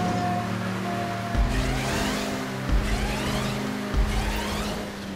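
Car racing in GTA 5 Online, a steady engine drone with shifting pitch as the car brakes and turns, with a few low thumps and some tire noise. No talking is heard.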